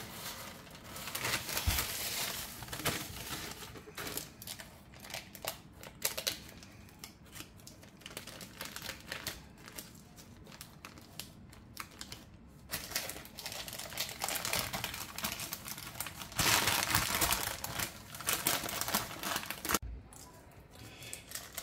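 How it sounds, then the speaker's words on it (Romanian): Baking paper is slowly peeled away from a baked meringue roll base, giving a soft, continuous crinkling and rustling with occasional louder crackles, close and fairly quiet. "am desprins hârtia de copt"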